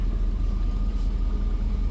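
A 30-year-old car engine idles a little high, a steady low rumble with an even throb that stays close and constant for the whole short stretch, with no talking.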